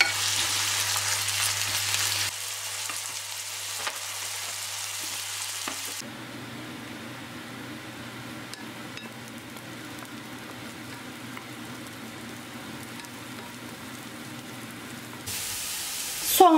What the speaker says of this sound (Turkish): Dolmalık fıstıkları da ekleyip beraberce dış yüzeyleri hafif kızarıncaya kadar kavuralım.